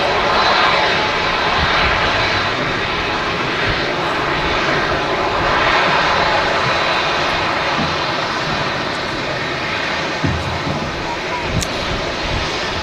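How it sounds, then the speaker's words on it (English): A Saudi Boeing 787 Dreamliner taxis at a windy Manchester Airport, its engines giving a loud, continuous roar mixed with steady wind noise on the microphone. "Vacating right ahead of us, a Saudi Dreamliner."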